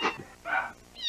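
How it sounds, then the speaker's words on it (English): A cartoon cat, CatDog's cat half, gives three short meows in quick succession, close and clear with brief pauses between them, the last one higher and more nasal. "Meow!"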